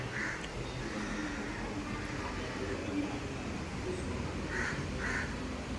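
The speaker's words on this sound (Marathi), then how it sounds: "कावळा चिकन खातोय का जरा आपण बघूया" A crow caws a few times outdoors while being offered chicken, its short harsh calls standing out against steady background noise.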